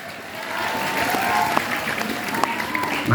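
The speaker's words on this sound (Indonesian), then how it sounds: "Tepuk tangan santri." Santri students at an Islamic boarding school in Palasari, Ciater, applaud steadily as a crowd for about three seconds, a broad even wash of clapping with some voices mixed in beneath it.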